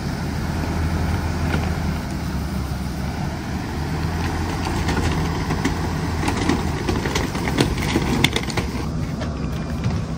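Jayco Precept motorhome engine idling steadily after starting, a constant low rumble close to the microphone with faint clicks and rattles throughout.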